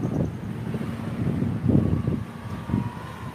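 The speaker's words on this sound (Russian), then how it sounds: "ветер отчасти притих. Хоть он и пока дует" Outdoor wind gusting into the microphone, a low rumbling buffet that swells and eases over a few seconds, with no voices.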